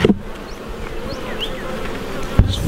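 Honey bees buzz around an open hive during an inspection, a steady close hum of many wings with individual bees droning past, and a couple of brief knocks from handling the frames.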